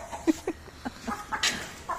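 Hens in a backyard cluck in short, irregular bursts at close range, several soft calls following one another with no talk.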